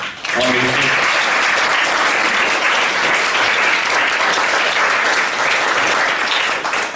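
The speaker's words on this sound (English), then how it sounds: "all the youth councillors should give a big round of applause" A big round of audience applause at a youth council presentation, loud continuous clapping from a gathered crowd with a brief voice at the very start before the clapping takes over.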